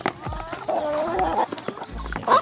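Free-ranging domestic chickens cluck nearby outside the coop in short, low bursts, with a few farm sounds and faint background noise.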